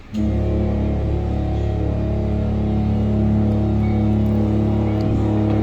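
A truck engine rumbles loudly and steadily after starting up, a constant low drone with a strong hum that holds throughout.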